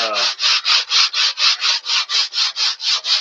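Rhythmic back-and-forth sanding on wood, about a dozen even strokes in quick succession, close and fairly loud with no talking.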